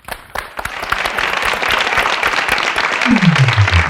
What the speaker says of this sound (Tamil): ஒரு அரங்கம் நிறைந்த கைத்தட்டல்